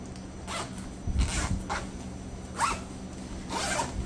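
Zipper on a fabric tote bag with an inner divider, pulled in several quick short strokes, close and crisp, with brief pauses between runs.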